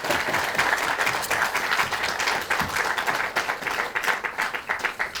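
An audience at a party caucus meeting of lawmakers breaks into sustained applause, a dense, steady roar of many hands clapping that pulses slightly throughout.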